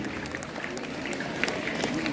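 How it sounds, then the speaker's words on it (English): A school audience claps for a student at an induction ceremony, a steady dense patter of many hands held at an even level throughout, with faint voices mixed in. "Let us clap our hands heavily for her, Sneha, for her friendship and humility."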